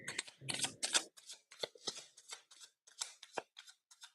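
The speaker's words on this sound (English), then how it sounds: "give these a good shuffle because they've been sitting there for a minute" A deck of tarot cards being shuffled in quick bursts of crisp riffling and flicking, close and fairly quiet, with no talking.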